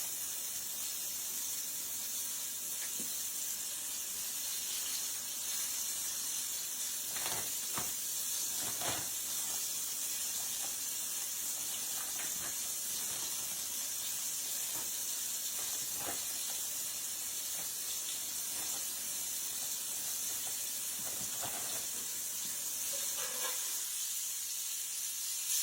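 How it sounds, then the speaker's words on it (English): Cubed steak searing in a hot pan on a stovetop set to about 4, giving a steady, loud hiss with no voices over it and occasional brief crackling spurts. "I'm just searing the meat."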